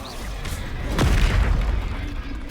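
The Confringo explosion spell goes off in Hogwarts Legacy as a single deep boom about a second in, followed by a rumbling, decaying tail over a continuous low background.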